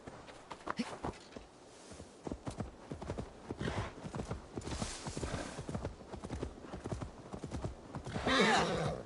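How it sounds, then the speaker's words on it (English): Rhythmic clip-clop of horse hooves in Assassin's Creed Valhalla moves steadily along, and a horse whinnies loudly near the end. "Now to deliver Magni his horse"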